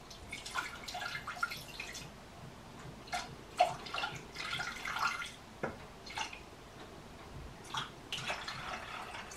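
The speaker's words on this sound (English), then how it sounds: "First I need to pour the water." Water poured into a pot for cooking spaghetti, heard as a faint, uneven splashing and trickling in irregular bursts that come and go, with no voices.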